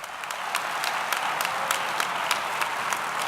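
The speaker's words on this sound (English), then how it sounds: "I'd like to give them all a round of applause." An audience at a conference general session gives a steady round of applause, a dense even patter of many hands clapping at moderate volume with no voices over it.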